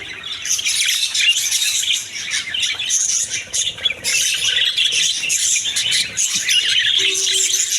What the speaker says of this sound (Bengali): এগুলা বাজরিকা পাখি বিগ সাইজের পাখি